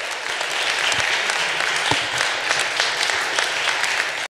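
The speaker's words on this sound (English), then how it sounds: "A big round of applause for a great talk." A large audience at the re:publica 2019 conference applauds after a talk, with dense, steady clapping that holds at full strength for the whole stretch and then stops abruptly.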